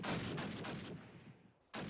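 Gunfire in a Hurtgen map video game match, several loud, close shots in quick succession that decay into a fading echo, followed by another sharp shot.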